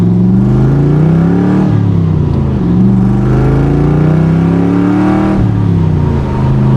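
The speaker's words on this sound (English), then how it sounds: "All right, let's go through the gears." A 1965 Chevrolet Corvette resto-mod with side pipes accelerates hard through the gears, its loud, rumbling exhaust rising in pitch, dropping sharply at each shift, then climbing again, heard close from inside the car.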